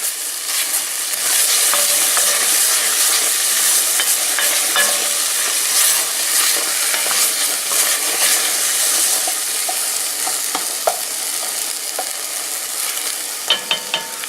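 Onions sizzle in a pot, with a steady hissing fry as they are moved around and stirred, the spoon making scattered scrapes and clicks over the continuous sizzle, close up and fairly loud.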